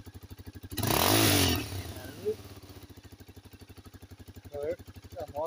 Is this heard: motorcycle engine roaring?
yes